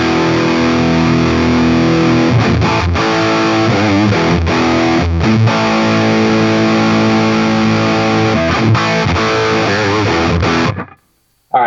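An electric guitar played with heavy overdrive through a Line 6 Helix amp modeler rings out in sustained, distorted chords with a few changes, loud and up front, then stops abruptly near the end.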